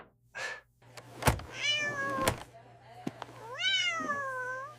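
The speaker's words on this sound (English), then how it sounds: "And this sleepy cat is my assistant, Pancakes." A sleepy cat gives a few drawn-out meows close by, mixed with a couple of sharp thunks and a low steady hum, while a person speaks in between.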